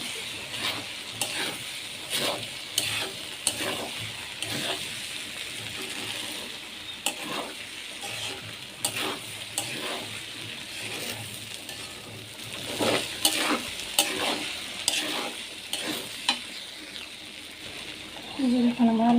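Potatoes and green chilies fry and sizzle in a pan while a utensil stirs and scrapes in repeated strokes, the hiss steady and close.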